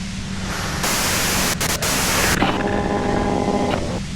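Steady, loud white-noise static from the video game Disco Elysium fills the whole stretch, with brief dropouts partway through and faint tonal hums rising under the hiss near the end.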